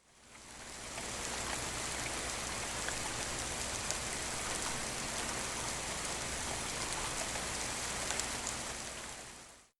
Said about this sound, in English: it finally began to rain and storm